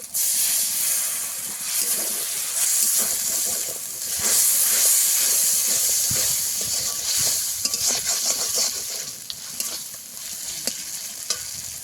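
Water hitting a hot pan of pangas fish with ground cumin, coriander and chili paste, giving a loud continuous sizzle and hiss as the mixture is stirred, close and without talk.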